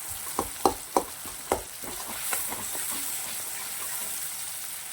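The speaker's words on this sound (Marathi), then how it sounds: "मस्त असं परतून घ्यायचं आहे कंटिन्यू आपल्याला अशा कंडिशनमध्ये बारीक टमाटर करून घ्यायचा आहे" Finely chopped tomato sautéing in a pan for a moong dal dish, a steady soft sizzle with a few sharp spoon scrapes and clinks early on, then a continuous frying hiss, alone with no talk.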